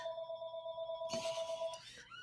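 Telephone ringing at a distance, a faint electronic tone with steady pitched harmonics that stops abruptly, followed by brief rustling and a last short chirp.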